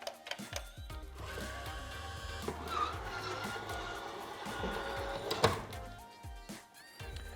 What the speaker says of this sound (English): you get the motor to deploy.